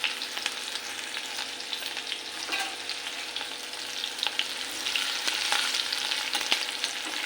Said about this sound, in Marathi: लसूण आणि मिरच्या चांगल्या भाजल्या जातात तेलामध्ये।